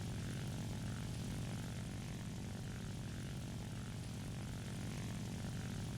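Steady, loud drone of a J7W1 Raiden's propeller engine in War Thunder, a continuous airborne hum that holds level throughout with no voices over it.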